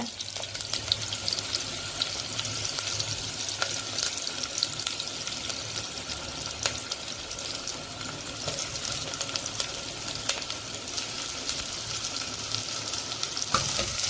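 Chopped onions fry steadily in a clay pot after mustard and fenugreek seeds have popped, a soft continuous sizzle with occasional faint clicks of stirring, heard alone without talk.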